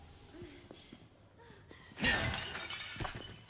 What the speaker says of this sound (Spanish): mira, estos jarrones se rompen